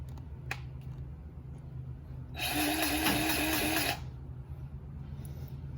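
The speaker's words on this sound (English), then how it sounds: "go ahead and pump some grease in there" A grease gun pumps grease into the track adjuster of a John Deere 317G track loader, giving a steady mechanical whir with a hiss that lasts about a second and a half over low background rumble.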